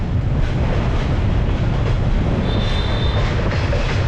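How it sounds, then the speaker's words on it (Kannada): A goods train rolls along the rails of Hanoi's train street, a loud, close, continuous low rumble of wagons with a brief high wheel squeal partway through. "ಈ ಟ್ರೈನು ಗೂಡ್ಸ್ ಟ್ರೈನು."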